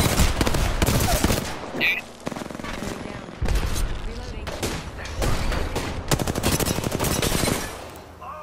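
Rapid bursts of automatic gunfire and overlapping shots in the battle-royale shooter PUBG, loud and dense with brief gaps, with a player's voice briefly heard over the shooting.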